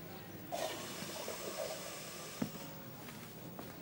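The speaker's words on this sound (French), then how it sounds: "Hé, doucement avec la chasse d'eau." A toilet flushes in a quiet room, a soft rushing gush of water starting after a brief pause and draining on for several seconds, faint and alone.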